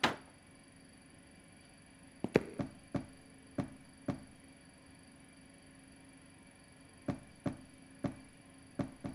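In an animated children's cartoon, something flapping in the wind makes sharp, hollow knocks. They come in irregular bursts of two to five close raps, separated by quiet stretches over a faint steady hum, with no talking.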